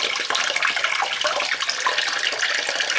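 Water rushing steadily into an Indesit washing machine that shows fault code F05, a loud continuous splashing hiss close by with no pauses.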